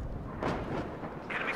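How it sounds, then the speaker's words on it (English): Artillery fire in the WARNO real-time strategy game, distant muffled booms rolling over a low rumbling battlefield, a heavier thud about midway through, all brief and faint. "They're firing actual artillery."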